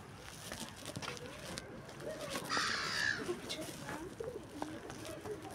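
A flock of birds, crows among them, cawing and cooing at a crowded gathering spot in England, faint and scattered beneath nearby voices talking.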